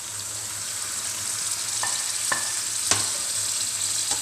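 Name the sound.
chicken added to frying masala in oil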